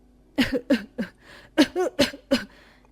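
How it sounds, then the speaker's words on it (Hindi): A run of harsh, close coughs, about seven in a row in quick bursts, with no other sound. "अचानक ही उसे बहुत जोर जोर से खांसी आने लगी"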